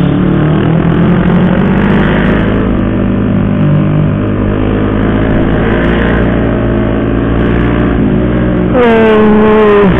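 A bus passes close by during a night motorcycle ride, its engine drone rising under the constant loud roar of the bike's wind and engine, with a sharp shift in pitch near the end as it goes by.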